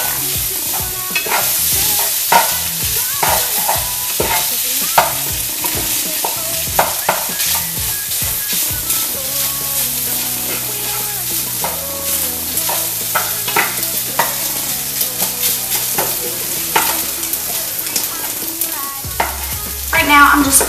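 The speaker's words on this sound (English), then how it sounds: "Now I'm just breaking up any overly big pieces while I'm letting it cook some more." Food cooking for country-style biscuits and gravy is stirred and broken into smaller pieces in a frying pan: loud, continuous sizzling over a busy run of scraping and clattering utensil strokes.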